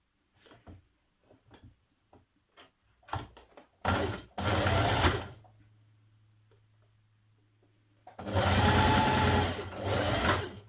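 A sewing machine stitches a summer dress in two loud, fast-running bursts of rhythmic whirring, preceded by scattered clicks and handling noises and a short lower hum in between.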